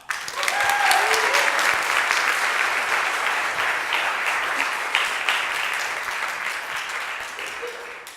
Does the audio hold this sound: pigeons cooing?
no